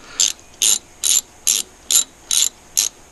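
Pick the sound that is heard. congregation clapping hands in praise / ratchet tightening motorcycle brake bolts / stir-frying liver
ratchet tightening motorcycle brake bolts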